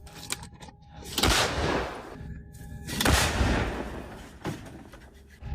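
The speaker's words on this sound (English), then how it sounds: "The long-awaited moment, Caesar self-propelled artillery in action." A CAESAR self-propelled howitzer firing on the front line in Ukraine: two heavy, booming blasts about two seconds apart, each with a long rumbling tail, followed by a sharper thump near the end.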